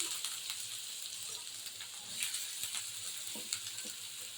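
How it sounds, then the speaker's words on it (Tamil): Onions frying in hot oil make a steady, close, bright sizzle that runs unbroken throughout, with faint crackles and light stirring ticks scattered through it. "எண்ணெய் நல்லா சூடாயிடுச்சு இப்போ வெங்காயம் சேர்த்துக்கோம்"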